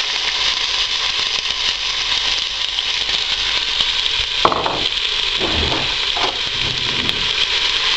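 Onions dropped into a quarter cup of hot oil for an Indian potato curry sizzle in a steady, close hiss, with a few stirring scrapes and crackles partway through.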